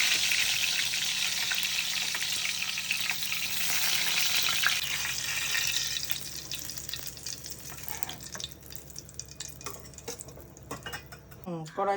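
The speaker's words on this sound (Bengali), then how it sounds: "কড়াই তেল দিলাম, তেল গরম হয়েছে" Oil heating and sizzling in a wok (kadai) while preparing Bengali vegetarian begun basanti, eggplant in a mustard-style gravy. A loud, steady hiss fills the first half, then fades into quieter crackle with scattered utensil clinks and a sharp clatter at the end.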